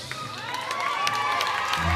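A concert crowd cheers and shouts in acclaim for a gospel singer at a Paris show, a loud, steady wave of voices rising over a brief two seconds.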